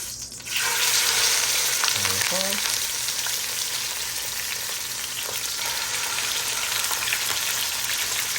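Chicken pieces frying in a pan of very hot olive oil, Filipino adobo style, with a loud continuous sizzle and crackle after a brief quiet start, plus a light clink of a utensil early on.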